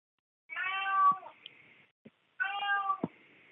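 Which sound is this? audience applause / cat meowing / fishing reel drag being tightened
cat meowing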